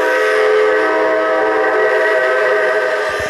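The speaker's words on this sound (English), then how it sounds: "It's a loud and long horn, guys. Loud and long." A loud, sustained AM7 locomotive horn from the Roblox NEC train simulator game blows one long steady chord, continuous and close for the whole stretch with no pause or talk.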